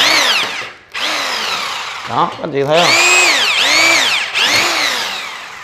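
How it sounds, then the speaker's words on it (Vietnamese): A budget concrete hammer drill bores into iron with a loud, sustained whine that dips, sweeps in pitch and bites down, while a voice speaks briefly over it. "Các anh chị khoan sắt vẫn rất là ok này."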